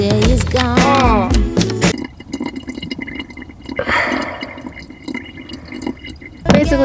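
Water from a bottle is poured into one cell of a van battery, a faint gurgling trickle that runs steadily under louder music at the start and end.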